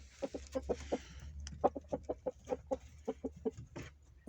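Indian breed roosters make a steady run of short, repeated clucks at moderate distance, with a low rumble underneath and no talking.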